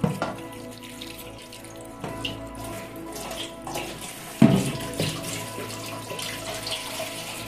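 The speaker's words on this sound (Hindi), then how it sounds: "जो भी यूटेंसिल्स हुए हैं देख सकते हो आप इन सबको हम वॉश किए ले रहे हैं" Water runs from a kitchen tap while utensils are washed, a steady rushing flow with clinks and splashes near the sink and a brief louder clatter partway through.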